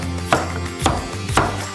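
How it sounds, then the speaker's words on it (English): A knife cuts through carrot on a board with three distinct, evenly spaced chops, each a close, crisp thud against a quiet background. "Cut up some carrot."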